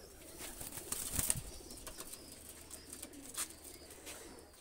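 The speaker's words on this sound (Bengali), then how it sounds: "এই দুইটা কবুতর আমি ছেড়ে দেখাচ্ছি" Two high-quality Omani pigeons are released and take off, their wings flapping in brief bursts near the start, with a faint coo and light rustling afterward.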